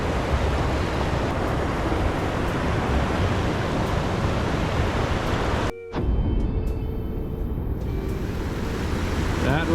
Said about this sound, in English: Right over there, it's a waterfall, a very dangerous waterfall.